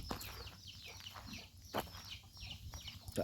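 Chickens in a farm pen cluck repeatedly at close range, a busy overlapping run of short calls over a faint background.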